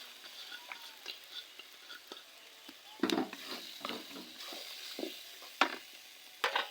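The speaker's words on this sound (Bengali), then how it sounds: "চিকন চিকন করে আলু কেটে দিচ্ছি।" Thinly cut potatoes go into a pan of cooked spice paste and fry. A low sizzle runs under scattered stirring clatters and a few sharper knocks of the spatula.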